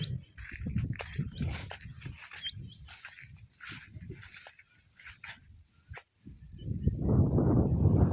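A pack of four dogs barking and whimpering outdoors near a farm field at a moderate distance, in irregular bursts, with a louder stretch of rough noise near the end.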